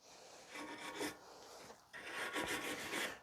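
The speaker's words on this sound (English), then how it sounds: "for more heavy rust, you may need to use something to sand down the contact points" Coarse rasping strokes of sanding heavy rust from the contact points of a 2016 Ford F-150 rear brake caliper bracket, two close bursts of rubbing with a short pause between, no talk.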